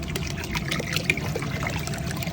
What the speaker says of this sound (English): We're going in there with 1 bottle of that brown sugar water.